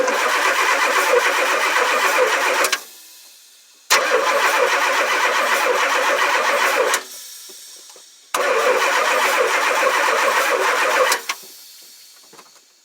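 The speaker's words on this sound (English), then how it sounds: "So as you can see, the motor is turning over beautifully." A big block gas truck engine, converted from diesel, cranks over on its starter in three long bursts of steady mechanical whirring, each stopping abruptly, close up and with no voices.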